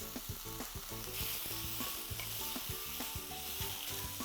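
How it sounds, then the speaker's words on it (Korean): Mushrooms stir-fry in an oiled pan with a pinch of salt, a steady broadband sizzle punctuated by frequent rhythmic scrapes and taps of a utensil stirring, close and continuous with no talking. "이제 버섯이 다 볶아졌으면 버섯을 꺼내 보도록 하겠습니다"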